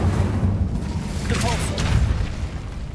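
A fire spell cast in a Harry Potter-style video game: a dense roaring, rumbling burst of flame and magic that stays loud throughout, with a brief whooshing swell near the middle.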